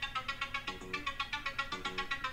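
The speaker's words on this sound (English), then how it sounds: "I have other tones I made as well" A custom iPhone ringtone created in iTunes plays as a repeating melodic pattern of bright electronic tones in a steady pulsing rhythm, fairly quiet and with no voices.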